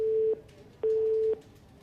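A telephone line gives a disconnected busy tone after a call is hung up, sounding as steady beeps of equal pitch with short gaps between them, clear and alone.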